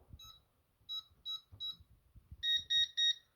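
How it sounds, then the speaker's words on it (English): A Concord 4 alarm panel keypad gives four short beeps as buttons are pressed, then three longer, louder arming tones in quick succession, with faint handling noise underneath. "You'll get 3 beeps"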